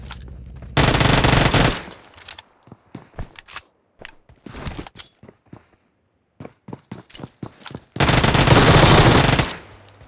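Groza and Uzi gunfire in the mobile battle royale game BGMI: two long, loud automatic bursts open and close the clip, with scattered short shots and footstep-like clicks between them.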